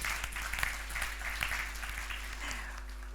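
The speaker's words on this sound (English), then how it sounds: "Please hear applause." Conference audience at a eurozone panel applauding an ambassador, fairly faint and distant clapping spread through a room, with a steady low hum beneath it.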